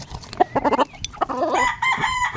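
A backyard-bred rooster crows nearby in a loud, clear cock-a-doodle-doo, preceded by a few short clucks and bird calls.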